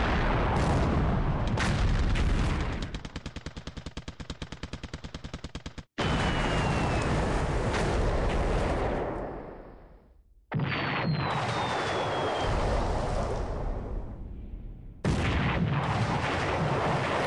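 Heavy explosions and rapid anti-aircraft gunfire from a Swordfish torpedo bomber attack on a warship in a World War II naval strategy game, loud booms and sustained rattling bursts separated by brief gaps.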